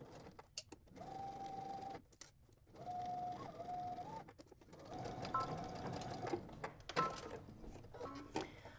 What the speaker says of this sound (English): we're going to go ahead to the sewing machine and we're going to start by first stitching our shoulder together using 5/8 of an inch seam allowance